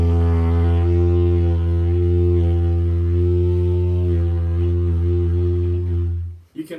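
A steady, loud, low didgeridoo drone runs for about six seconds while the player's mouth shape shifts between vowel sounds, slowly changing the buzzing overtones above the constant fundamental before it stops.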